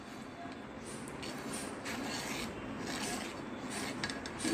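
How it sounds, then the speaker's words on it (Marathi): Continuous close scraping of a spoon stirring boiled milk in a pot after lemon juice goes in, a steady rasping churn with no talk. "आपण ढवळून घेऊया दूध"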